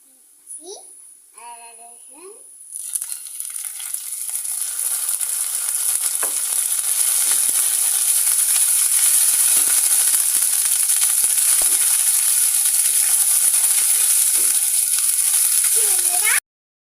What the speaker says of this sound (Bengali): আদা রসুন দিয়ে আমি এক দুই মিনিটের মতো ভেজে নিয়েছি